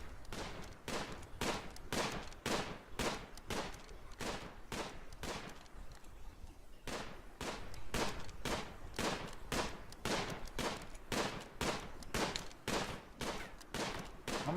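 Gunshots from the colony game RimWorld, fired at a sleeping squirrel: a long string of evenly spaced sharp shots at a steady rhythm, pausing briefly midway before resuming at the same pace.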